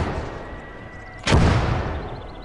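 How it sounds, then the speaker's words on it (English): A single heavy mortar blast booms in the Gates of Hell: Red Star Rising game, sharp and loud, rumbling on beneath a steady battlefield din. "Fine, the mortars are dealing with that."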